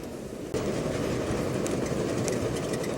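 A train runs steadily on its rails in a film scene, with a loud, continuous rumble and rattle of wheels and carriages that swells suddenly after a brief quieter opening and holds close and unbroken.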